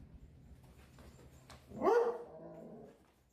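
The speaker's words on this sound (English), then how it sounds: "Let the doggos out." One dog gives a single short bark, fairly close but moderate in volume, over a low room hum as the dogs are let outside.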